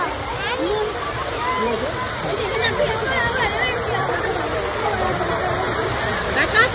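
A waterfall at an eco park pours in a steady, broad rush that stays loud and continuous throughout, with a crowd murmuring faintly underneath.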